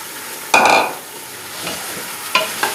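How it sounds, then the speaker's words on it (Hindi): Two kilograms of beef with ground spices fry in a pot for a badami qorma, with a loud scraping stir followed by softer stirring strokes over a steady, low sizzle. "गोश्त भी भुन जाएगा और मसाले भी भुन जाएंगे"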